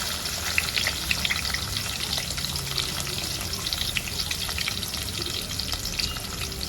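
Chopped small onions frying in hot oil with mustard seeds and fenugreek for a fish curry, a steady close crackling sizzle with scattered pops throughout.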